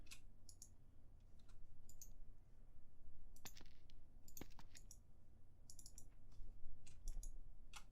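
Sharp, faint clicks of a computer mouse and keys while playing modded Minecraft, scattered irregularly in small clusters over a low background hum, with no voice.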